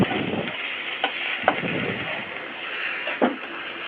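Mushroom posto being stirred in a pan after chili powder goes in, a continuous close sizzle broken by a few scraping strokes of the spoon, no speech.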